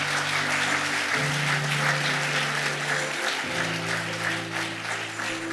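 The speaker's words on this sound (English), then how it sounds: "Why don't you give another big round of applause to Ms. Kang So-young for the wonderful performance as well" Sustained audience applause at a formal SME workshop ceremony, dense and steady throughout, with low musical tones underneath.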